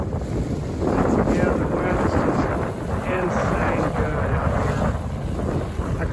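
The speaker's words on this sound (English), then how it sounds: "the wind is just insane good out here" Strong wind buffets the microphone aboard a Buccaneer 18 sailboat beating upwind, a loud continuous rush mixed with water wash against the hull, steady throughout with no talk.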